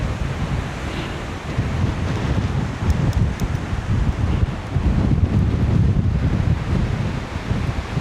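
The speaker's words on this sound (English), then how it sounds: "The wind through this pass is very fierce." Fierce wind roars through a mountain pass in a constant heavy rush, with buffeting wind noise on the microphone throughout and no voices.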